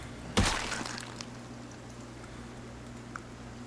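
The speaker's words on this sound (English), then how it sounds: "I thought I heard the knife breaking" A sharp crack of a knife breaking in the video game Project Zomboid, one loud brittle snap near the start, then a quiet steady hum with a faint tick later.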